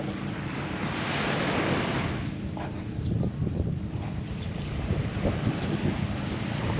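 Ocean waves wash against the seaside shore at Bucana, a steady loud roar of surf with wind buffeting the microphone throughout and no talking.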